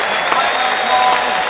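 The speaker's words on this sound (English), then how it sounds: "Give that lady some applause." An applause sound effect plays during a talk show interview, a brief, steady burst of dense clapping at full level with no other sounds over it.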